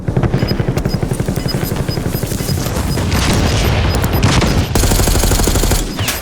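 Loud, rapid bursts of gunfire ring out in the online shooter Call of Duty Warzone, repeated shots overlapping with heavier booms and continuous battle noise.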